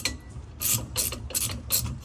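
A ratchet loosens the center nut of a boat's flybridge steering wheel, giving about four quick, evenly spaced clicking bursts at close range with nothing else around them.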